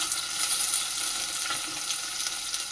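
Mixed vegetables deep-frying in oil, giving a steady, close hiss of bubbling fat with no pauses and no one talking.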